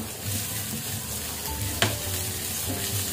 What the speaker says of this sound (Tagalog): Lalagay natin yung ating sibuyas muna